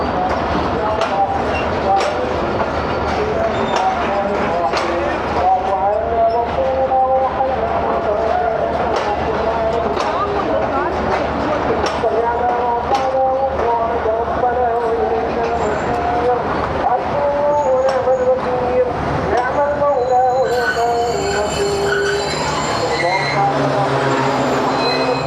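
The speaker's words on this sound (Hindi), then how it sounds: "ये है 9 अप अल्लामा इकबाल एक्सप्रेस, जो कि चलती है कराची से सियालकोट के लिए" The Allama Iqbal Express passenger train from Karachi to Sialkot runs loud and steady, a continuous rumble with rhythmic clatter throughout, and someone speaks over the din.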